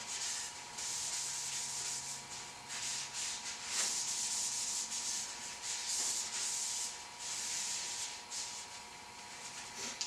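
Close, steady sanding and rubbing of a wooden tool handle turning on a lathe, a continuous hissing scrape that swells and eases in gentle waves with no talking.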